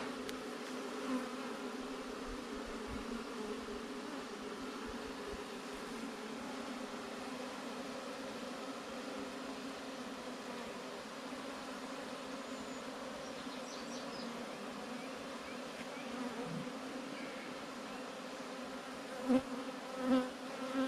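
A honeybee swarm just moved from a swarm trap into a hive drones steadily for the whole stretch, a dense, even buzz of many insects close by, with a couple of faint knocks near the end and no talking.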